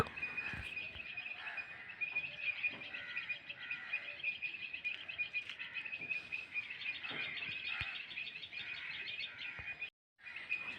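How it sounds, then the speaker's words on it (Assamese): Birds chirp and tweet continuously from trees beside a house on a misty morning, a steady, moderately faint chorus of high, rapid calls with occasional soft knocks and a brief gap near the end. "চৰাই-চিৰিকটিৰ মাত শুনা পাই থাকিব।"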